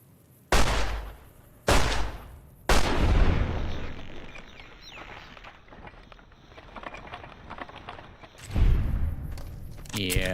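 Gunfire in the video game Fallout: New Vegas: three sharp, loud shots in quick succession with reverberant tails, then quieter activity and footsteps, and a burst of noise near the end. A voice is heard in the background.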